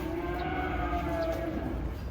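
Limousin cattle low while being unloaded from a fully loaded truck. A deep, drawn-out moo carries over a constant rumble of background noise, with faint voices mixed in.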